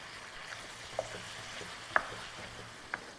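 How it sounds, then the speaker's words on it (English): Fatty ground meat seasoned with sea salt and black pepper browns in a pan with a soft, low sizzle, broken by a few faint clicks of a utensil. No one speaks. "So I'm just browning up the meat here"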